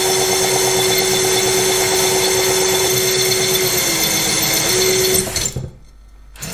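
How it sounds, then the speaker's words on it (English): A drill whines steadily at high speed while boring through a glass bottle under only its own weight, grinding with a constant pitch, then cuts out abruptly near the end. "It's just the weight of the drill."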